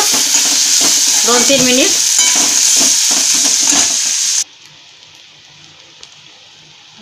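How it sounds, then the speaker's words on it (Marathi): Tomatoes roasting with spices and leaves in a hot pan, stirred steadily with a loud crackling sizzle and scraping for about four seconds before the sound drops away abruptly to quiet room tone. "सगळं टाकून घेऊन असं चांगलं भाजून द्यायचं"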